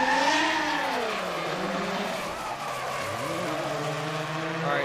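A drift car at the Okuibuki course in Japan, during Formula Drift qualifying, screams through a slide with a wailing engine whose pitch rises and falls, steady and fairly close, with tire noise mixed in.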